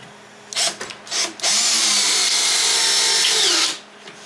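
Power drill driving 1.25 inch number 8 Phillips head screws into a teardrop trailer interior cabinet: two short bursts, then a long steady whine of about two seconds, loud and close with no talking.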